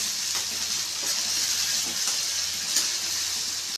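Ground garlic, onion and tomato paste sauté in hot oil for a bitter gourd curry, giving a dense, continuous sizzling hiss, close and steady throughout with faint stirring beneath.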